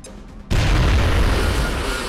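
A grenade detonates in XCOM: Enemy Unknown, a sudden loud blast bursting in after a quiet half-second and rolling on as a heavy, sustained rumble to the end.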